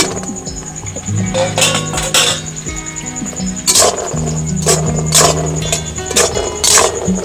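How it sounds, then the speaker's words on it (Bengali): Fried dal mithai pieces are stirred steadily in sticky sugar syrup in a pan, giving repeated scraping and light clinks against the metal over a constant background hum. "এবারে এগুলো অনবরত নাড়তে থাকবো ততক্ষণ না পর্যন্ত এই চিনি সিরাপটা মিঠাইয়ের গায়ে শুকিয়ে না যায়"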